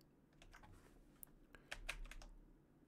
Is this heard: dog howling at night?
no